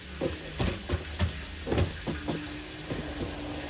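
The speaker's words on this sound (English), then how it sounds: "And yes, it's raining." Rain falling outdoors with scattered drops tapping on nearby surfaces, a steady soft patter with irregular louder hits, fairly close and moderately quiet, no voices.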